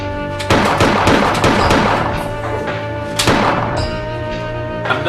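Gunfire in the survival horror game Silent Hill: Homecoming, loud booming shots in quick succession with a sharp blast near the three-second mark and a final shot at the end, no talk.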